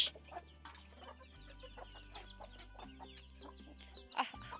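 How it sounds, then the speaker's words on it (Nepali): Chickens cluck in scattered, fairly faint bursts under a steady background of music, with no talking. "कुखुरालाई चारो पनि हालिसकेँ।"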